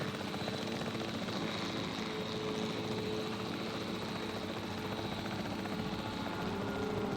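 An aircraft flies in the video game Jurassic World Evolution 3, giving a continuous, steady rotor and engine drone like a helicopter, even in loudness from start to finish with no talk.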